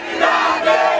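A young crowd at an Ivorian political rally chants a leader's name in unison, with loud rhythmic massed voices rising and falling in a short burst.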